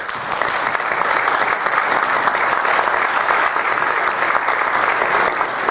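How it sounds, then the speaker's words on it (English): Steady, dense audience applause fills a room at a Braintree, Massachusetts community listening session, holding a constant level for about six seconds without a pause. "I'd like to give them a round of applause"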